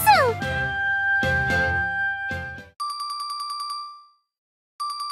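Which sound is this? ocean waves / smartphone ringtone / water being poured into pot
smartphone ringtone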